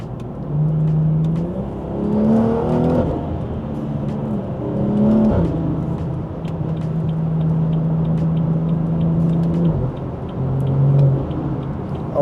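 Exhaust of a Stage 2 tuned B58-engined car driven in Sport Plus mode, droning close and loud through a few rising revs and shifts, then a long steady cruising hum and one final brief climb, with no talking.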